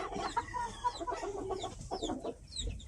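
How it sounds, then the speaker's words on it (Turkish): Chickens, including İspenç breed, cluck in short, overlapping bursts, several birds close by in a coop, with a steady barnyard murmur underneath. "Buradaki tavuklarımızı gösterelim."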